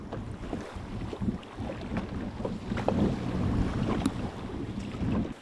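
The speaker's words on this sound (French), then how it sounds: "Le vent et la houle dévient le dinghy de sa trajectoire." Wind and sea swell buffet a small dinghy drifting on open ocean during a quiet traditional dugong hunt with no engine running, a steady gusty rush with water slaps and low rumbling throughout.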